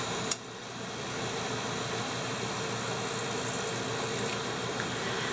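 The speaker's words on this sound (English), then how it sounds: "I apologize if y'all are hearing the air conditioning because it is super hot here in South Carolina" Air conditioning running inside an RV on a hot South Carolina day gives a steady, even broadband hum and whoosh that holds alone at a moderate level, with one brief click near the start.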